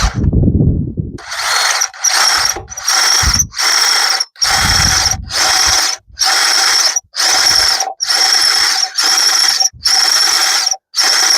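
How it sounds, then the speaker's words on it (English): Power drill boring through 16 gauge sheet metal clamped near the hole, a loud high whine running in repeated bursts with short pauses between, about ten separate runs. "Now I'm going to go ahead and start my drilling as close to my clamp as I can."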